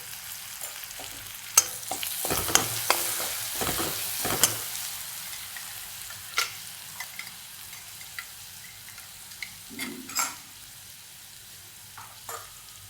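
Chopped garlic and green chillies sauté in a pan for a dill paratha filling, giving a soft continuous sizzle with occasional spoon scrapes and stirring clicks close by, no talking.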